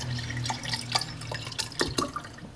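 A little water poured or dripped into a container at home, heard as scattered splashes and drips over a low steady hum, fairly close and quiet.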